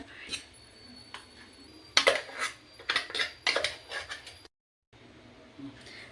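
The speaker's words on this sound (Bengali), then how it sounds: "আমি এই মিক্সিং বোলের মধ্যে ঢেলে নিচ্ছি ডাল বাটারটা" Lentil batter for Bengali dal pakora is poured into a mixing bowl, with a spoon scraping and clinking against the bowl in irregular bursts and a brief silent gap near the end.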